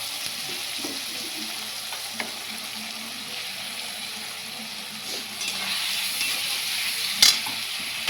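Crab fries in a pan with a paste of dried red chili, garlic and ginger, making a continuous close sizzle with soft stirring and a brief sharp utensil click near the end.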